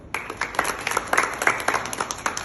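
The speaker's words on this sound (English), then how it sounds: "Please give us a big round of applause." An audience at a high school pageant workshop claps, with distinct individual claps in an uneven rhythm from a modest crowd, fairly close and moderately loud.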